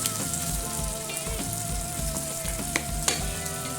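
Pork ribs sauté in a pan for a monggo stew, a steady close-up sizzle with scattered crackles and a few sharp pops, no voices over it.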